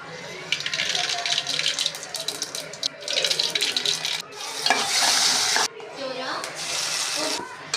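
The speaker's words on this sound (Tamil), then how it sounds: "இப்போ நம்ம எண்ணெய் காஞ்ச உடனே இந்த அப்பளத்தை பொரித்து எடுத்து தனியாக வச்சுக்கலாம்" Appalam (papad) frying in hot oil, with steady sizzling and bubbling that swells and fades in bursts alongside some clatter and stirring noise, close and fairly loud, with no one talking.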